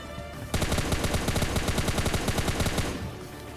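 Rapid automatic gunfire in the PUBG Mobile Lite video game, a sustained burst of evenly spaced shots lasting a couple of seconds after a quiet start, then fading.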